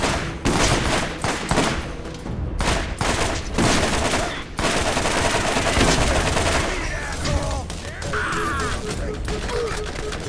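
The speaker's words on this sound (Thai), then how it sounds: "อะไรมันยิงผมอยู่อ่ะ" Rapid gunfire in the shooter video game Borderlands, dense bursts of shots and explosions that repeat throughout with loud game noise and a few brief high electronic tones.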